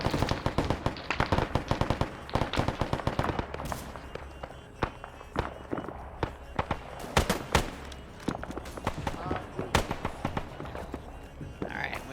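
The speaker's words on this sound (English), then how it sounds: "they got the 50 cal, but I still got the 30 cal here. That's suppressing them" A .30 cal machine gun fires in bursts in a World War II strategy game, the rapid, sharp cracks coming in quick runs against scattered distant shots and thuds, with speech only now and then.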